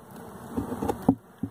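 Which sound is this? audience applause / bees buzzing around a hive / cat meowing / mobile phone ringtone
bees buzzing around a hive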